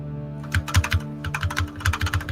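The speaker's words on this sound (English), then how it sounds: "I can hear your keyboard." Keys clatter on a computer keyboard in a fast, uneven run of clicks and thumps, heard close up over a steady low hum with no talking.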